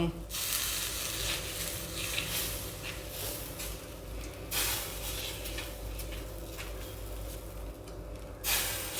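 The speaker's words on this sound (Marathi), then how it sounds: "आपण आता हे तव्यात असं टाकूया" A paratha frying on a hot tawa gives a steady close sizzle and hiss that runs the whole time, rising in brief bursts of louder frying.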